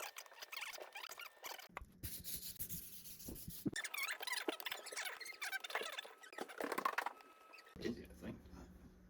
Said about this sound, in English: you can definitely hear that crisp sound a little bit